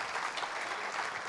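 Audience applause at a public talk in Nashik, a dense, even wash of many hands clapping at once, steady and moderately loud with no pauses, no voices.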